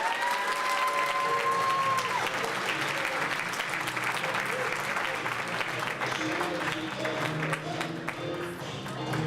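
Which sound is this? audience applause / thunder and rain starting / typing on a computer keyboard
audience applause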